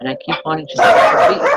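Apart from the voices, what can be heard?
dogs barking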